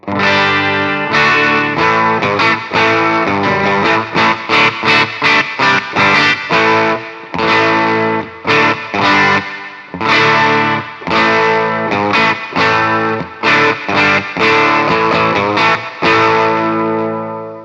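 A heavily distorted electric guitar, a Passion BPS-RG270 on its bridge pickup, chugs through choppy chords and riffs with short gaps, loud and close, with a gritty, effected amp tone breaking up at the tail and no voices.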